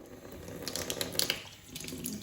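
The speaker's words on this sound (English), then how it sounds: "So you run the jar under hot water," Hot water runs from a kitchen tap over a jar held beneath it, a steady close splashing and gurgling stream with small shifts as the jar moves under the flow.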